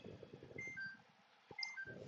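A washing machine gives a few short electronic beeps, thin and fairly quiet, while a nearby voice talks at the start.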